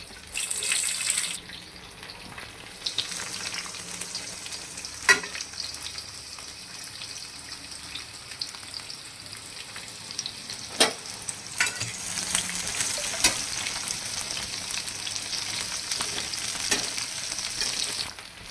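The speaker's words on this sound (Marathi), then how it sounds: "गरम तेलामध्ये कांदा टाकला की लवकर भाजतो" Chopped onion frying in hot oil for a village-style chicken dish, giving a steady close sizzle with occasional stirring scrapes and clinks throughout, and no talk.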